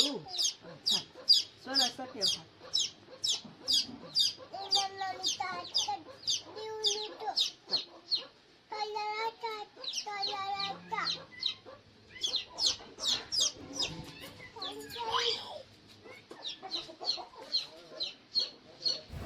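Chickens cluck in short bursts at a village farmyard while their chicks peep in a rapid, regular stream of high chirps, the sounds near and fairly loud, with brief pauses between runs.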